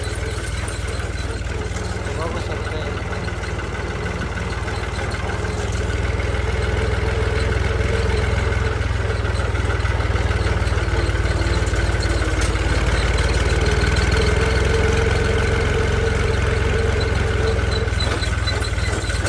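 A tractor engine idles with a steady, loud low rumble that holds throughout, with a slight rise in level partway through and a voice speaking occasionally over it.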